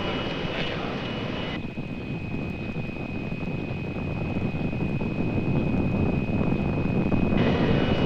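NASA rocket engines roar at liftoff, a loud, continuous broadband rumble that holds steady and swells slightly as it goes on.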